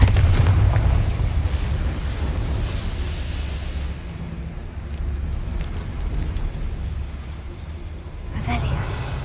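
The fiery Confringo blast spell in Hogwarts Legacy gives off a deep, rolling boom that rumbles on for several seconds, then flares again with a sharper burst near the end amid game ambience.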